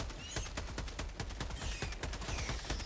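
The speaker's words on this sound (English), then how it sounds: "Throwing grenades." Rapid, dense gunfire and explosive blasts in the video game Helldivers, with grenades going off amid sustained close bursts of shots in a loud, continuous barrage.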